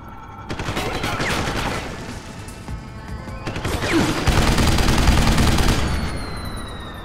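Gunfire in the video game Deus Ex, dense crackling volleys in two loud surges under a steady game background, with a voice heard briefly.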